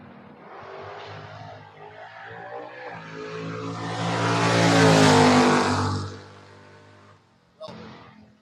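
A Pontiac Firebird roars off the line in a drag race, engine swelling to a loud peak then fading as it pulls away, followed by a brief second burst, with an announcer speaking over it.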